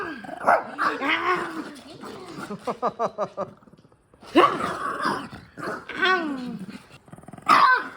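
A small Shih Tzu dog makes odd whining, growling vocalizations, including a quick run of rhythmic yips, close up with occasional voices nearby.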